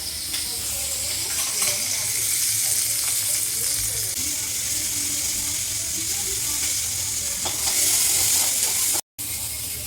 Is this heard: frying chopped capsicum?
yes